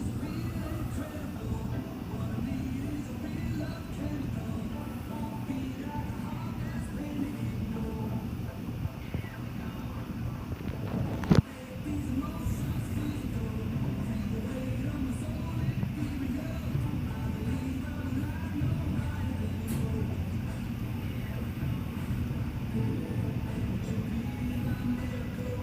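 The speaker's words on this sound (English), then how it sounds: "Here comes the train" A freight train hauled by GP42 locomotives rolls past at a Louisiana industrial park, a steady low rumble of wheels and engines at moderate distance, broken by one sharp click midway.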